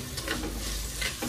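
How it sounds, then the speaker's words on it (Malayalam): Onions, tomatoes and green chillies fry in oil with a soft, continuous sizzle and brief stirring sounds, heard alone and fairly quiet. "ഇനി 3 തക്കാളിയും പച്ചമുളകും ഇട്ട് കൊടുക്കണം."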